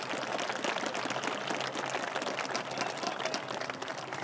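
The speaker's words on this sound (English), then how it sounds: "So let's give them a round of applause" A crowd at the groundbreaking for the UCCU soccer stadium at UVU applauds the women's soccer team. The dense, steady clapping hisses on without a break, with no voices on top.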